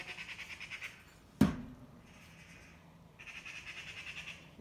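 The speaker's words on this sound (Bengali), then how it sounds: "পাখিতে ডাকতাছি" Birds call outdoors in repeated, rhythmic squawking bursts, moderately faint, interrupted once by a sharp knock or clatter nearby.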